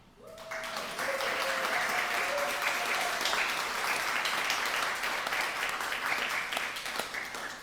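Crowd at a graduation ceremony cheers and claps as graduates enter, a dense, sustained wave of applause with whoops and shouts rising quickly and staying loud throughout.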